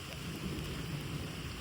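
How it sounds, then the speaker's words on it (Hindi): Heavy rain pours steadily on a mountain hiking trail near a waterfall, a dense, even hiss of downpour with low rumbling underneath, constant and enveloping with no talk. "इतनी तेज बारिश है"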